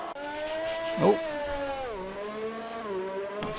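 A racing car in a racing video game spins out, its engine tone wavering and dropping over a brief scrabbling tire noise, with the engine hum sustained throughout.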